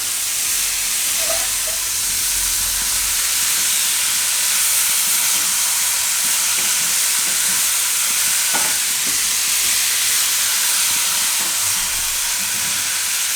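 Boiled green beans simmer in a masala gravy in the pan, giving a steady, even hiss and gentle sizzle with faint bubbling and occasional soft clinks, continuous and unaccompanied by voices.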